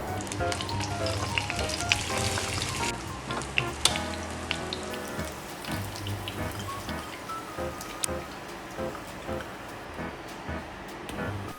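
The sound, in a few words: tofu frying in a pan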